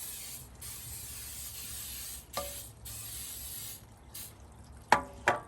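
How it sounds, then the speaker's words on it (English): Short hissing bursts of coconut oil cooking spray coat the inside of a springform cake pan, several sprays in a row, close and clear, each ending with a faint click of the nozzle. "we're going to spray the inside of the spring pan just to make sure that the cake doesn't stick"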